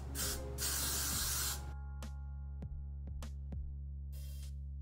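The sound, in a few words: hairspray being sprayed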